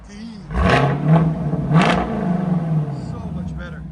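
2022 Chevy Camaro LT1 V8 with MBRP cat-back exhaust blipped twice in quick succession, each rev snapping up loudly nearby before easing into a throbbing idle, while people talk over it.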